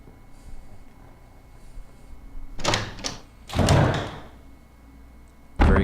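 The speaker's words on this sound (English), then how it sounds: "we're going to go in through the next door now" Heavy wooden doors open in the Resident Evil REmake, with a few loud thuds and creaking slams bunched in the middle, then a sharp closing thump at the end, set against a quiet, low ambient background.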